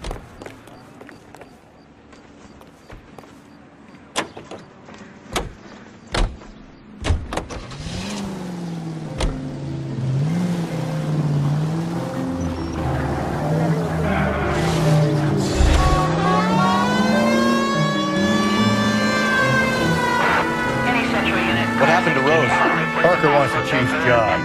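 A car driven in the 1940s Los Angeles detective game LA Noire, its engine hum rising and shifting in pitch as it accelerates, with clicks and thumps early on and voices talking over the drive.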